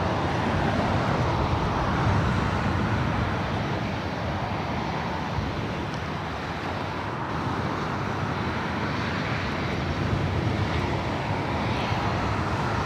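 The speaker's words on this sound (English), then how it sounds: "the All Blacks 777-300ER about to touch down on 25 left" An Air New Zealand Boeing 777-300ER in All Blacks livery lands on runway 25L at Los Angeles International Airport, a loud, continuous broadband jet roar that holds steady throughout, with no talk.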